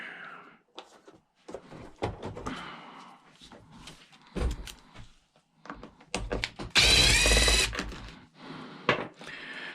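A power tool drives Phillips screws on a broken chainsaw in loud bursts, with a long whirring run near the middle, broken up by clunks, handling knocks and quiet gaps.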